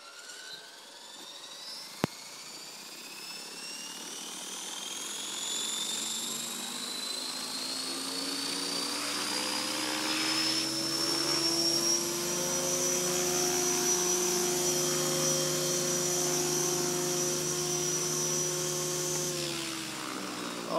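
A Logo 500 RC helicopter flies indoors, its high electric motor and rotor whine steady and loud, rising in pitch as it spins up and holding a sustained drone throughout with no talking.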